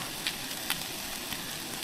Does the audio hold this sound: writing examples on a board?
no